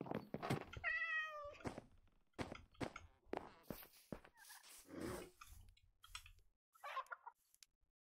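A cat meows in the block-building game Minecraft, a few short synthetic mews mixed with chicken-like clucks and other game creature noises, fairly quiet, with no talking.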